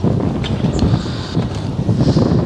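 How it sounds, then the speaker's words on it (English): Loud, gusty wind buffeting the microphone with a constant low rumble and roar, no voices, close and steady throughout. "oh, bit of wind"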